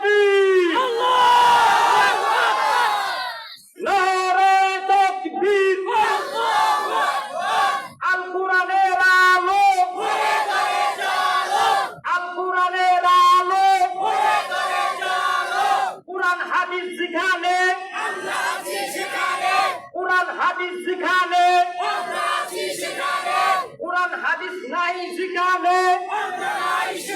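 A large religious-gathering crowd chants Allahu Akbar in loud unison in answer to a lead caller's Nara-e Takbir, in repeated powerful shouts separated by short pauses, the voices booming and massed.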